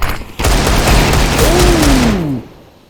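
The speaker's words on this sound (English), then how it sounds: "he's just firing wildly into the smoke" Rapid gunfire sprayed blindly into a smoke cloud in Counter-Strike, a loud dense burst of shots lasting about two seconds with a sweeping whistle-like tone over it, then cutting off.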